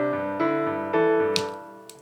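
MuseScore software playback of a bass line in quavers, a clean run of even synthesized bass notes stepping up and back down, near and moderately loud, ending with a couple of faint ticks.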